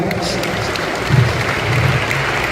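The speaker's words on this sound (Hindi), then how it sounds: "तो सर के लिए एक जोरदार ताली बजा दीजिए।" Audience applause at the opening of a state badminton championship, a broad wash of clapping that swells in short bursts, heard close and fairly loud with a low murmur of voices beneath.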